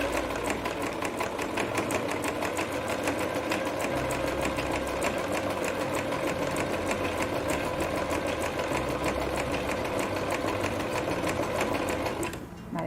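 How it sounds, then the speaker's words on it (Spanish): A sewing machine stitches fabric makeup remover pads, a steady, close, continuous mechanical whir and rapid needle clatter running unbroken for the whole stretch, easing off only at the very end, with no talking. "le damos al pedal y vamos cosiendo"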